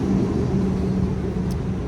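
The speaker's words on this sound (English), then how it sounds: "that fucking bus loud as hell" A loud bus rumbles nearby, a continuous low engine drone and road noise filling the whole moment without pause.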